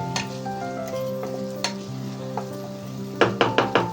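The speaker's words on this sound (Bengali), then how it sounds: "ভালো করে এগুলোকে নাড়িয়ে নেব।" Boiled food frying in a pan over low heat, a soft steady sizzle under a faint hum, with sparse spoon scrapes early and a quick run of four sharp stirring knocks against the pan near the end.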